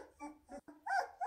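Weimaraner puppies about two and a half weeks old whimper and squeak softly in short, thin cries, close by and quiet, with no talk.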